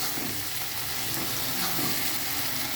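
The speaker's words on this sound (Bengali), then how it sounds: "এটা মশলা জল ছাড়া হবে, এটা খালি ভাজা ভাজা হবে।" Spice masala fries dry in a pan with no water added, producing a steady, close crackling sizzle throughout with no talking.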